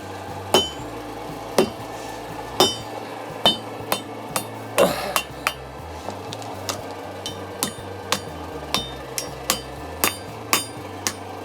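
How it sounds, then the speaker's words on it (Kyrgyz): Steady hammer strikes drive nails into a horseshoe at a village farrier's, about eighteen sharp metallic blows in an uneven rhythm, loud and close with no talking. "Мына жери така мык кагылат да өзүчө."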